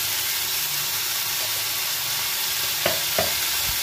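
A spoon stirs turmeric powder and salt into a drumstick leaf soup mixture in a pot, giving a steady soft hiss with a couple of brief scraping clinks near the end and no voices.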